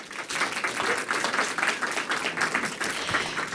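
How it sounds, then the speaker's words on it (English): An audience at a public art panel discussion applauds for five artists, a steady, fairly dense round of clapping lasting the whole stretch at moderate distance. "can we give them a round of applause?"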